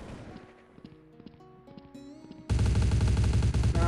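Gunfire in the online shooter game Truy Kích: a faint spattering of shots over game tones, then a sudden loud sustained burst of rapid automatic fire.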